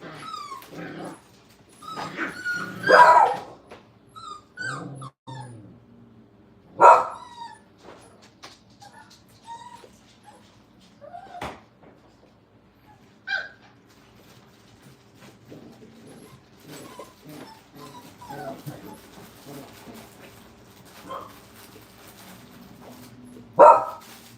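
Puppies in a crate-training kennel bark and whimper in scattered bursts, with sharp yips standing out among softer whines and shuffling in between.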